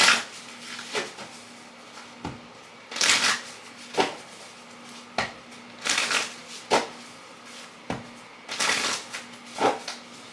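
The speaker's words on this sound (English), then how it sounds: "let me just take this whole chunk of the deck, just put it on the floor" A tarot card deck handled up close, with a chunk of cards lifted and set down on the floor, making repeated shuffling riffles and soft slaps in irregular bursts over a faint steady hum, with no talk.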